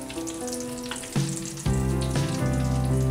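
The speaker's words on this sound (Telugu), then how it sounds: "మంచి ఫ్రై అయ్యాయి కదండి." Eggs sizzle and fry in a pan of oil for an egg curry, a steady crackling hiss that swells louder partway through, with a faint hum underneath and no talking.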